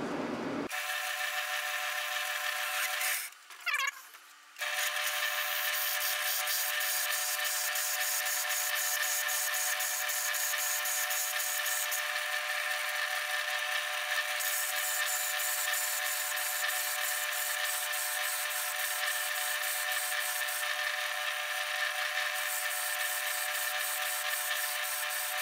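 A metal lathe boring out the bore of an expanding arbor with a boring bar, giving a continuous loud high-pitched cutting whine with a constant motor hum. A brief pause comes a few seconds in, then the cut runs steadily.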